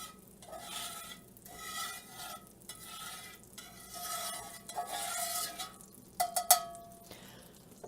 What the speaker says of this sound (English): you can see it's just barely sizzling there